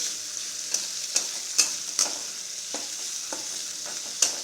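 Onion, green chilli and tomato sautéing in a pan, soft sizzle broken by repeated sharp spatula scrapes and taps at an uneven rhythm, close up with no voices.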